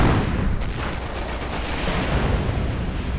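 Steady, dense gunfire crackles through a World War II strategy battle as American airborne troops fire on a German Panzer IV, with overlapping shots and distant booms forming a continuous, loud wall of combat noise.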